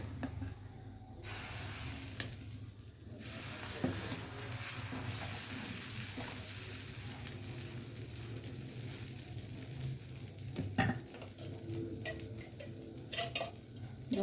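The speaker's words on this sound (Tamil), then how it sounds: "கலக்கிட்டு இப்போ ரெகுலராக தோசை ஊற்றுற மாதிரி ஊற்றுங்க." Dosa batter mixed with rava sizzling on a hot pan, a steady close frying hiss throughout with occasional light clinks and scraping.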